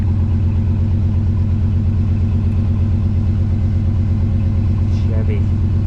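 A Chevy car engine idles with a steady, loud, throaty rumble and rough exhaust pulsing throughout, as if lacking a muffler.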